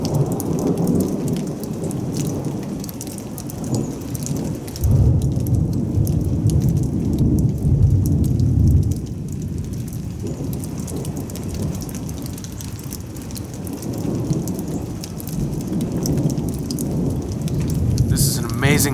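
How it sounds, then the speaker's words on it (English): A heavy thunderstorm pours down on a covered metal shelter at a Colorado River campground, with steady rain drumming throughout and a deep, loud rumble of thunder rolling through the middle. "Amazing lightning storm we're having out here."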